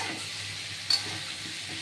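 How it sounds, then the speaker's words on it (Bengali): Cumin seeds, a little turmeric and salt frying in a pan for a pumpkin chhakka, giving a steady soft sizzle with faint stirring scrapes and one brief louder clink near the middle. "আমি জিরে, একটু হলুদ আর লবণ সব দিয়ে এটা ভাজা ভাজা করছি"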